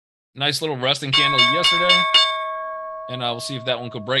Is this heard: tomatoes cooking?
no